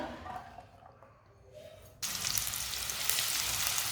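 Finely chopped onions hit hot mustard oil in a home kitchen pan, a soft quiet stretch giving way to a sudden, steady, bright sizzle that stays loud and continuous.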